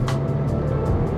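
Engine of a Mercedes A 250 AMG Line car under hard acceleration, a close, steady low drone with rising tone and no voices.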